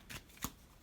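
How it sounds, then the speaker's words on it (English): Cards from the Crusader Kingdoms board game being shuffled by hand, two quick riffling bursts close by, soft and brief, with no talking. "I randomize my cards"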